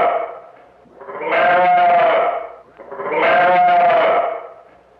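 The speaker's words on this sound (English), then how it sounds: "When a ewe is separated from her lamb, she calls her characteristic bay." A ewe separated from her lamb gives two long, loud bleating bays, close and alone, each swelling then fading with a brief pause between.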